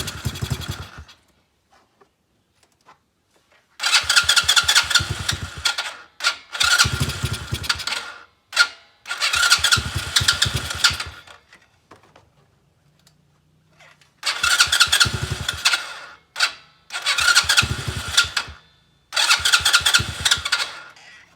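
An X-Pro Bolt 110cc engine that won't take fuel cranks and sputters in repeated short bursts, several attempts of a few seconds each separated by silence, loud and close, with no voices.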